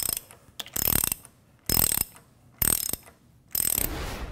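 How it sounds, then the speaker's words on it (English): A jacking bolt being tightened with a ratchet on a Gorman-Rupp Super T10 pump, pulling the rotating assembly from the volute: four bursts of rapid, close metallic ratchet clicking separated by short quiet pauses. "we can begin tightening the jacking bolt, pulling the rotating assembly away from the volute"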